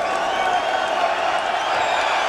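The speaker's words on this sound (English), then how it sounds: "And getting great support from the crowd." A boxing arena crowd at the Chris Byrd versus Andrew Golota fight cheers and applauds in a steady, dense roar that holds at the same level for the whole short stretch.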